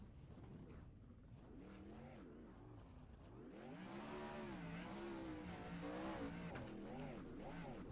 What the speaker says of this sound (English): Bergeron doing his burnouts here.